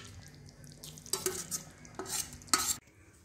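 Pre-fried fish pieces are stirred into a curry gravy in a pan, a quiet background sizzle broken by a few louder scraping, clattering strokes of a spoon against the pan, with no talking.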